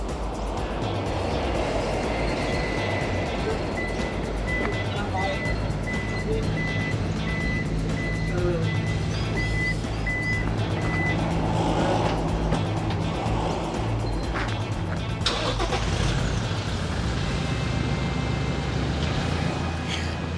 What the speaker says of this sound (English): I don't know about the beeping though